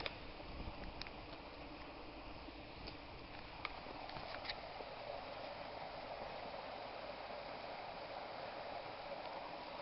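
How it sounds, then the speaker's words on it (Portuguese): A small stream flows at night, found in the dark during a power outage. It gives a steady, even watery rush with faint scattered ticks and no voices. "Estão a ver? É um riacho."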